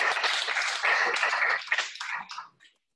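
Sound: audience applause for presenters

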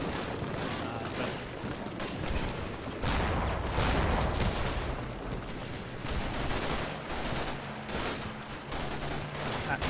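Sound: gunfire from the Combat Mission Shock Force 2 video game

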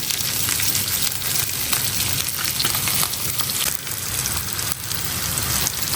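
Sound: fish frying in oil with onion and green chili

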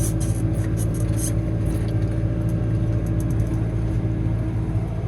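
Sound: Fendt 413 tractor engine downshifting while pulling Ermak land leveler

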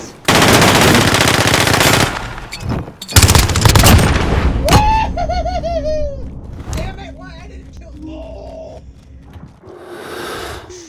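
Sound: gunfire in a 1v1 video game match

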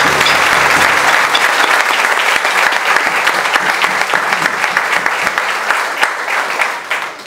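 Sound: audience applause

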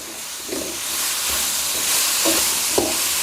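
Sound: stir-frying pumpkin with minced pork in a pan

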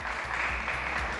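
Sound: studio audience applause

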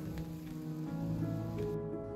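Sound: rain falling

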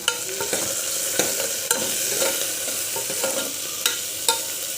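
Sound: curry leaves frying in dal tempering

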